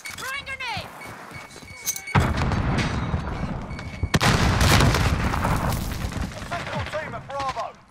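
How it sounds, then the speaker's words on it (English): A grenade blast in Call of Duty: Modern Warfare, part of a busy match where loud booms and bursts of gunfire hit twice in quick succession, with voices and game chatter layered over the noise. "Throwing grenade."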